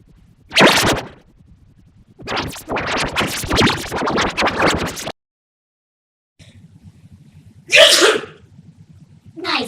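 An animated cartoon character sneezes loudly several times, each sharp burst separated by short gaps of quiet, with a faint hum underneath in the later part.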